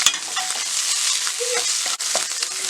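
Spring onion egg bhurji with chopped coriander is stirred in a pan on the stove, giving a loud, continuous sizzle broken by scraping and clinking of the spoon against the pan.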